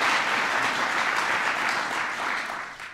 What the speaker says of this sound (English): Give Elizabeth a big round of applause.